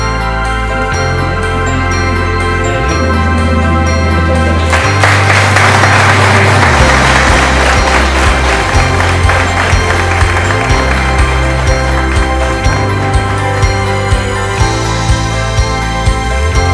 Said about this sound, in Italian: Un bel applauso ad Alessandro